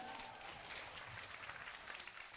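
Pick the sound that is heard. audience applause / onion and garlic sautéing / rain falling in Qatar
audience applause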